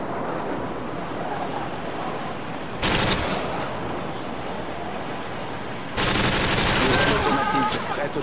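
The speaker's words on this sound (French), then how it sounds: "Tourelle automatique" Automatic turret fire from Modern Warfare 2, sustained rattling bursts that surge loud around 3 s and again from 6 s over a constant noisy wash of game ambience.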